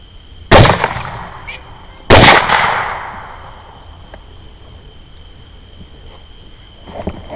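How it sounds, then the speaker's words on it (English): Two loud, sharp 6.5 Grendel rifle shots at hogs at night ring out about a second and a half apart, each followed by a decaying echo, then a quieter crack near the end. "I'm going to go ahead and start shooting"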